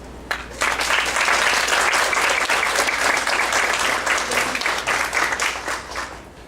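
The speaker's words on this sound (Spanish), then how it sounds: "Cedo la palabra a la doctora Cristina Covarrubias para que pida un fuerte aplauso." A conference audience breaks into loud, sustained applause that starts abruptly and holds for several seconds before easing off, clapping dense and close.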